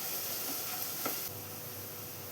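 Onions and garlic sizzle in a pan as horse gram is cooked into a spicy fry, a steady close hiss with a brief stir around the middle, no voices.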